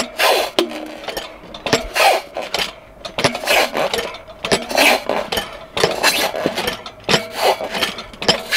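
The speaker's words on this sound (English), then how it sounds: "Put tyre iron in, move about an inch, and push again, and keep doing that" Tyre iron levering a dirt bike tyre off its rim, a series of close, loud scraping and grinding bursts of metal against rubber and rim, repeated in uneven strokes about a second apart.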